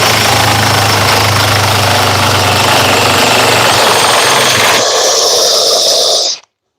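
A high-torque cordless impact wrench runs continuously at close range, a loud, dense hammering buzz that shifts in pitch partway through and then cuts off abruptly at the end.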